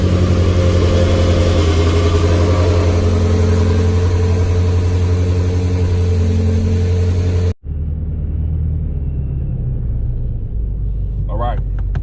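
A boost-equipped car pulls out of a house driveway, its engine rumbling loud and steady at close range for about seven seconds before a sharp cutoff, then a quieter low drone continues with faint scraping bursts near the end.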